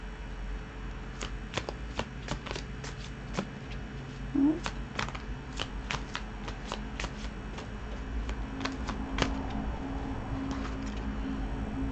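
Oracle cards are shuffled by hand in a quiet room, a long run of quick, crisp riffling slaps and flutters at close range.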